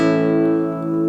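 A major chord on a flamenco guitar ringing out close and clear, its sustained notes holding steady with a slight dip in level before the end, no voices.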